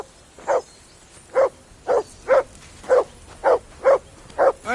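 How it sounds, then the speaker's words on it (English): A dog barks in the medieval video game Kingdom Come Deliverance 2, giving about nine sharp, evenly spaced woofs over a quiet background, with no talking. "I assume you can hear that damn dog of yours barking."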